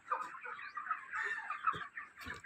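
A flock of 29-day-old broiler chickens clucks on a poultry farm, a dense, soft chorus of overlapping clucks and chirps with a few louder calls, with no talk.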